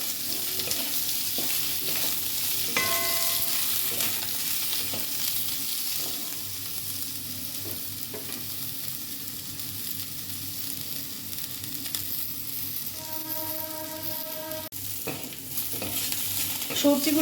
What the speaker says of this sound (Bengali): সবজিগুলো আমি একটু ভালো করে ভেজে নেব।